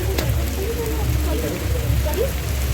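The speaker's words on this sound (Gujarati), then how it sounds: "વરસાદ આવી ગયો છે." Steady rain falls outdoors on an August day, a dense, even hiss that holds throughout, with faint voices murmuring underneath.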